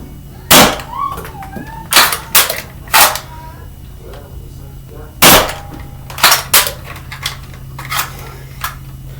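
A Dart Zone Aeon Pro foam blaster firing half-length foam darts, giving sharp, loud, snappy shots in irregular clusters of two or three with quiet gaps between them.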